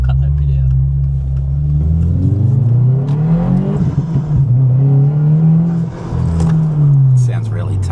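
A 2026 Subaru WRX with a turbo and basic bolt-on mods, pulling hard on full boost, makes a loud, steady engine drone that rises and falls in pitch over several seconds, with voices talking over it.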